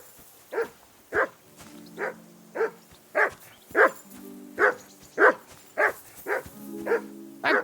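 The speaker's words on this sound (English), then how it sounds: "That dog of yours is barking like the devil." Repeated dog barks from a game dog in Kingdom Come: Deliverance II, about a dozen sharp, evenly spaced woofs roughly every half second, fairly close and loud, with no talk over them.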